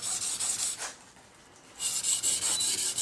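A Christmas kitchen knife being sharpened on whetstones, steady rasping strokes in two bursts separated by a brief quiet pause, close and alone.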